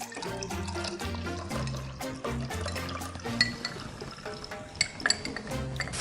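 Cocktail mix poured into a glass, a steady liquid stream gurgling and rising in pitch as the glass fills, with small clinks near the end, close and clear with no talking.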